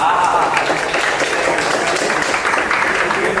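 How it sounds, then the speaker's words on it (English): Audience applause at a Skeptics in the Pub talk night, a dense steady wash of many hands clapping at fairly loud level, continuous throughout without a clear break. "Here, Andres, we'll give him a big round of applause."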